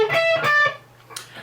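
Distorted electric guitar playing a 12-tone row, a quick run of a few sustained, buzzy notes close up, followed by a brief quieter tail.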